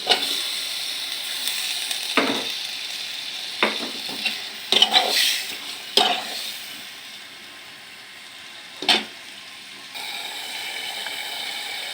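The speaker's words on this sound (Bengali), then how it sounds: "এখন মশলাটা কষিয়ে এসেছে, টমেটোটা দিয়ে দেব" Spice paste and tomato sautéing in a pan, a soft steady sizzle with several sharp spatula scrapes and stirring knocks at irregular intervals, no talking.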